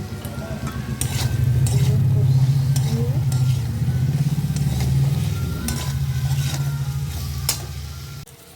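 Ground cumin, salt and turmeric frying in a pan for a dal dish, stirred continuously: a loud, steady sizzle with a low rumble and occasional scraping strokes, close and sustained for several seconds before a brief pause, with no speech.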